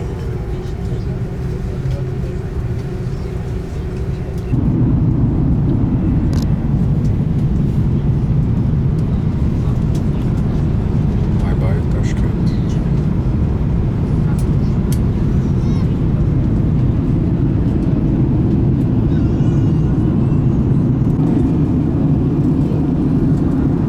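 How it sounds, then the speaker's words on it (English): Steady low airport ambience with a broad rumble of aircraft engines that grows louder and fuller after a few seconds, then holds as an even drone with no clear voices. "Back at this damn airport."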